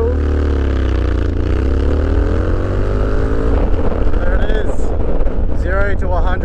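A street scrambler motorcycle, before its camshaft upgrade, accelerates hard from a standstill toward 100, its engine note climbing in pitch through several gear changes under heavy wind buffeting on the microphone.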